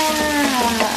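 Chicken fries with green beans in a home-cooked pan, giving a loud, close, continuous sizzle over a brief moment with no talking.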